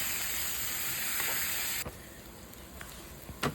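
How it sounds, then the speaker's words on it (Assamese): Boiled bamboo shoots fry in a hot pan with a steady loud sizzling hiss that drops abruptly partway through, followed by quieter crackles and a few sharp pops. "আৰু এতিয়া ইয়াতে ভাজিম মই যিখিনি গাজ মই বইল কৰি ৰাখি থৈছিলোঁ, বাঁহৰ গাজ, সেই গাজখিনি ভাজিম।"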